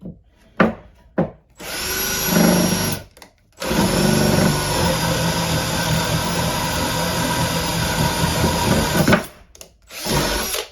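A Milwaukee drill on its second speed setting cuts through material, giving a few short bursts before a loud, steady run of several seconds that stops abruptly, followed by another brief burst.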